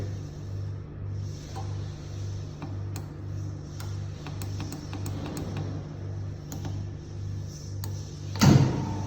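A ChocoMan 30 Deluxe chocolate machine starts its wheel, with a low pulsing motor hum repeating in a steady rhythm, light ticks and clicks on top, and a brief louder knock near the end.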